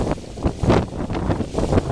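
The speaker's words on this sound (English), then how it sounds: "the winds are starting to gust, and it's coming in from the northwest." Chilly northwest wind gusts buffet an outdoor microphone, a steady rumbling roar with uneven surges throughout, loud and close with no talk.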